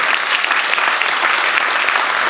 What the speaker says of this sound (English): Can we have a round of applause for Jim?